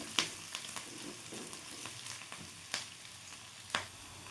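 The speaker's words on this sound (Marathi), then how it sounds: "दोन ते तीन मिनिट छान परतून घ्यायचं छान लालसर कलर येईपर्यंत" Onion, garlic and ginger sauté in a pan, making a soft, low sizzle broken by a few sharp stirring clicks, faint and close with no talking.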